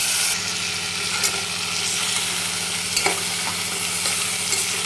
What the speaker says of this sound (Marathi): आणि छान आपल्याला 5 मिनिट ह्याला पूर्ण फुल गॅसवर आपल्याला परतून घ्यायचं.